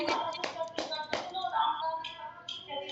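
A handful of sharp hand claps ring out in a steady rhythm during a group exercise session, close and distinct, followed by softer tapping and shuffling as a voice carries over the end.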